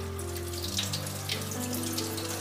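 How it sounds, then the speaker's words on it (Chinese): Water gushes steadily from a hose pushed into a cut opening of a fresh amberjack, flushing backward toward the tail, a close continuous running-tap rush with faint splashes and no voices. "水管插进刚刚切的洞口，反向往鱼尾灌水"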